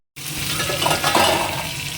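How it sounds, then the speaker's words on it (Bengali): Pointed gourd fries in hot oil in a pan, a dense, close sizzle and crackle that runs continuously and fairly loud throughout. "এবার পটল দিয়ে ভাজতে দিয়ে দেবো তেল দিয়ে দিচ্ছি"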